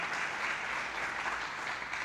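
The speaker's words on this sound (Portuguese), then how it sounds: "Dá um aplauso aí." A church audience bursts into dense, continuous applause, a steady wash of many hands clapping at even loudness throughout, with no voices standing out.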